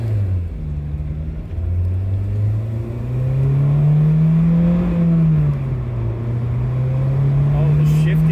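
Acura RSX Type-S pulling away under steady acceleration, engine note climbing and easing as gears change through a short-throw manual shifter, heard from inside the cabin with occupants talking at moments.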